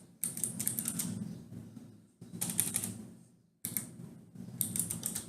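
Clattering key presses on a computer keyboard in three dense bursts separated by brief gaps, fairly close and crisp, with no voices.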